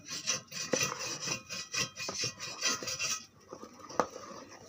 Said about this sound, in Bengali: আর দিয়ে দিচ্ছি চালের গুঁড়ো, ঠিক এতটা পরিমাণ দিয়ে এটাকে ভালো করে আমি ফেটে নেব।